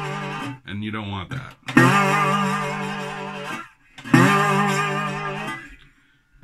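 After a brief spoken phrase, a slide guitar in open D tuning plays two long sustained notes with wide, wavering vibrato that overshoots the pitch, each ringing clearly for a couple of seconds.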